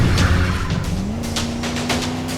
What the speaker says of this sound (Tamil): வண்டி அடியா, சீக்கிரம் வண்டி அடியா